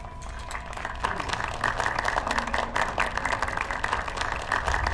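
An audience at a stage magic show applauds loudly, a thick, sustained round of clapping with some low crowd murmur beneath it that keeps going through the whole stretch.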